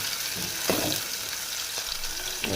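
Onion, tomato, curry leaves, coriander, mustard and cumin frying in hot oil for a tempering, a dense steady sizzle up close with a few soft stirring knocks.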